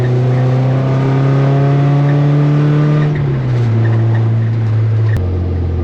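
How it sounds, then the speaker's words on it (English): Car engine with newly installed shorter gearing revving hard in second gear, a loud steady drone that climbs in pitch, drops briefly at a shift around three seconds, then pulls again, with no talking. "now it'll be way torqueier in second gear"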